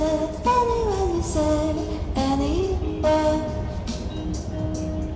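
Inside an electric commuter train on the way home from a rainy, muddy cycling trip: a steady, loud rumble of the carriage carries the motors' whining tones, which repeatedly glide up and down.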